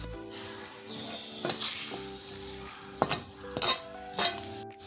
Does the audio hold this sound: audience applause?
no